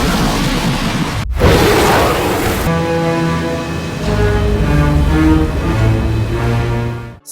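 A film explosion as Godzilla's atomic ray strikes an empty ship: a loud, roaring blast with a rushing rumble for about two and a half seconds, then giving way to swelling orchestral music.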